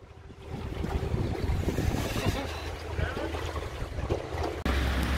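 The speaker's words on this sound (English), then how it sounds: "Okay, cruising down front of Tail and Bend." Tiny houseboat cruising on the River Murray, a steady low motor drone with water wash and wind buffeting the microphone throughout, a brief dropout near the end.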